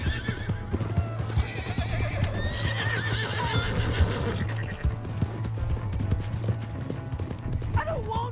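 A horse in the video game Red Dead Redemption 2 clip-clops along at a steady pace and whinnies, while game music and voices play underneath.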